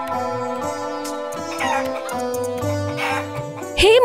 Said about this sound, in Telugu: గుడ్డు పగిలిన తర్వాత అందులో నుంచి బయటకు వస్తుంది ఒక బంగారు కోడి.